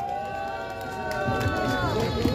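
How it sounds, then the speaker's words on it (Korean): Audience applause rising for a speaker being welcomed to the stage at a Korean lecture event, a broad steady wash of clapping with crowd noise that swells slightly toward the end. "박수 한번 주세요"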